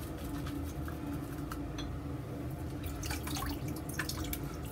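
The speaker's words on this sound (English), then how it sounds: "I let it warm up in the water as I filled the sink up with hot water." Hot water runs steadily into a sink while it fills, a low, even rushing stream with scattered faint drips and splashes, fairly quiet and with no voices.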